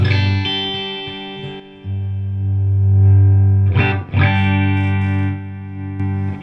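A distorted electric guitar rings out with sustained chords through a mid-1970s Carlsbro TC60 twin channel reverb valve amplifier on its normal channel, loud and saturated, with a brief pause and a strummed burst midway.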